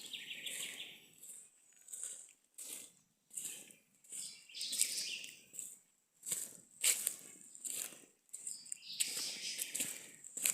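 Birds sing in dense Atlantic Forest: repeated bright chirps and whistled calls come in short bursts over several seconds, with low rustling murmurs beneath.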